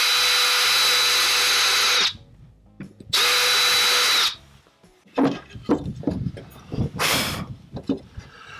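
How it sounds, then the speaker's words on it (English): A countersunk bit in a power drill bores into sub-floor board for a Ford Transit MK8 campervan, two loud whirring bursts followed by quieter scraping, grinding and handling noises with short spurts of the drill. "I'm then going to use a countersunk drill bit just to remove"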